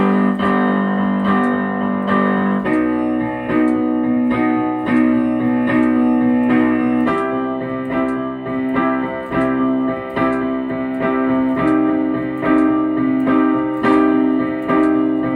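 Piano playing the chorus of a song with both hands together, sustained left-hand chords under accented right-hand rhythms, loud and close, changing chords every few seconds with no voice.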